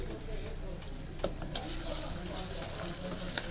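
Date pit oil cooking with a little water added in a pan, giving a faint, steady sizzle with a few scattered crackles and no talking.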